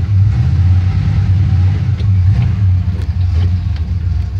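A 1979 Chevy Silverado C10 pickup truck runs after a cold start, its engine giving a loud, close, steady low rumble that carries on with no break.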